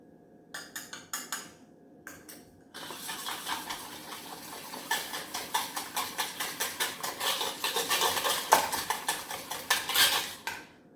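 Eggs and sugar are whisked in a bowl for caramel custard, first a few quick taps, then a fast, steady rhythmic clatter of the whisk against the bowl, close and moderately loud.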